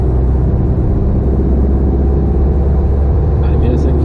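Car engine revving loudly during a gear change into fifth with the accelerator still pressed, a steady droning rumble inside the cabin with a road hum underneath.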